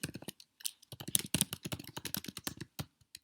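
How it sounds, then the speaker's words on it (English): Clattering keystrokes on a computer keyboard, irregular bursts of quick taps with short pauses, close and fairly loud with no voices. "Sorry about the typing"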